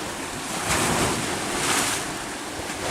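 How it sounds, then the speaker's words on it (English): Rough ocean waves crash and surge in loud, continuous washes with two stronger swells, heavy wind buffeting the microphone, no voices. "See, very angry water."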